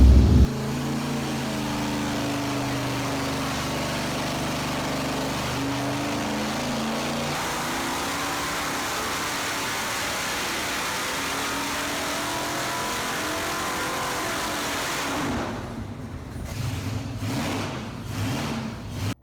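A junkyard 8.1L V8 with its stock cam roars steadily under load on a dyno for about fifteen seconds, then drops off and winds down to a rough idle, loud and close.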